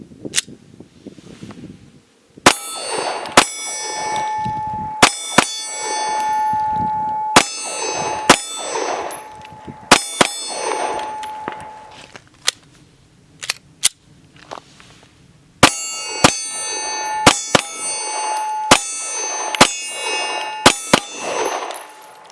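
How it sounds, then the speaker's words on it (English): Heckler & Koch VP9 and VP9L pistols fire loud, sharp shots in two volleys separated by a short lull. Each report carries a bright metallic ring afterward. "I fired a few rounds with VP9 and then a VP9L"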